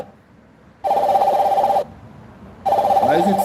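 Telephone ringing in two long electronic bursts with a pause between, loud and close, the second ring cut short, no talk over it.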